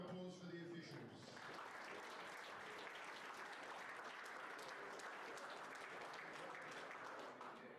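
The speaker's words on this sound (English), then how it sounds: "Please, big round of applause for the officials." Arena spectators at a national team championship final clap for the match officials, sustained dense applause, loud and steady throughout. Faint voices show briefly at the start.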